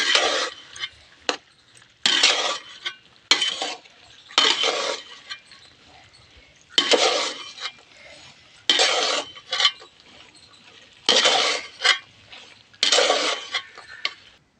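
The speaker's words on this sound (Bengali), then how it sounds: "ভালো করে একটু কষে নেব মটরটা আলুটা ভালোভাবে একটু কষতে হবে" Dried peas and potatoes are sautéed for ghugni, with a utensil scraping and clinking against the pan in repeated bursts of stirring separated by short pauses, close and loud.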